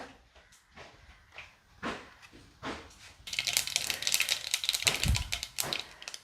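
Mustard seeds hit hot oil in a heated pan: a few scattered knocks and clicks, then a sudden dense crackling and spluttering that keeps going loudly to the end.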